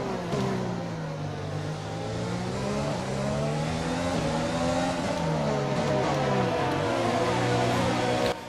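Race car engine in F1 2020 droning steadily and loud as the car enters pit road, pitch sliding down and wavering as the engine is held back, with no talk over it.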